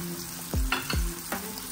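Sardines hitting a hot pan for ginisang sardinas, with a few quick sizzling bursts and stirring scrapes in a short close burst, no talking.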